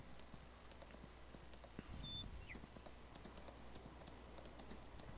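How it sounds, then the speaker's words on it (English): A riderless horse gallops away in Farming Simulator 19, its hooves a faint, quick clip-clop patter that stays low and distant over a quiet background. "All I see is this horse running away."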